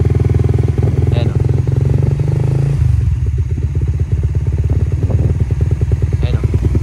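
A motorcycle fitted with a power pipe exhaust idles loud and close around 2,000 RPM, a rapid rhythmic popping burble that drops to a lower, choppier pulse partway through, with faint voices in the background.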